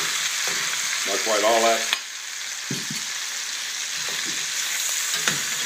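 Rabbit legs frying and browning in a pan give a steady loud sizzle throughout, close by, while someone speaks briefly over it and a few clanks sound.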